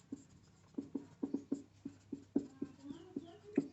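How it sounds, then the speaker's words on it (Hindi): Chalk taps and strokes on a classroom board, about a dozen sharp, irregular knocks close up during a physics lesson. "तो मैं यहां लिख देता हूं"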